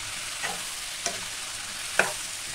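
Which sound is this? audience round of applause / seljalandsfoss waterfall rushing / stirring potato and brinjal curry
stirring potato and brinjal curry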